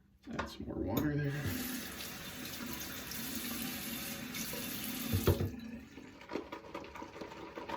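Tap water runs steadily into a sink while shaving lather is being prepared, a broad continuous splashing rush lasting several seconds before cutting off, followed by faint handling clatter.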